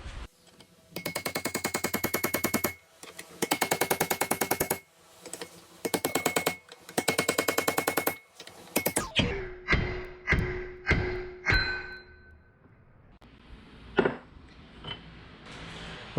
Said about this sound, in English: Now we're gonna use a pretty large brass punch and a hammer to just knock those